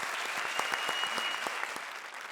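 A studio audience claps steadily for two performers on a comedy show, a dense, sustained wash of applause with sharp individual claps poking through, no voices over it.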